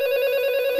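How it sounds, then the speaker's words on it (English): A telephone rings in a scene from the movie Scream 7, a steady electronic tone with harmonics that holds clearly for under a second before a brief burst at the end. "The phone is ringing."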